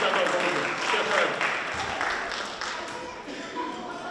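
Audience applause at a magic show, a dense wash of clapping across the whole stretch that thins slightly toward the end, with a voice heard over it.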